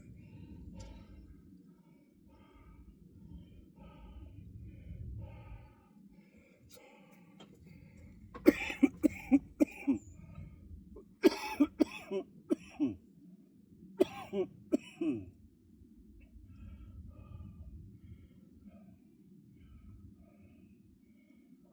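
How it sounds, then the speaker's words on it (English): A person coughs in several sharp, harsh bursts close by, after some quiet throat sounds and breathing, then settles back into low background noise. "I might be coughing a little bit more than usual"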